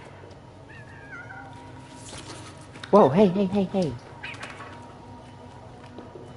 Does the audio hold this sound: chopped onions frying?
no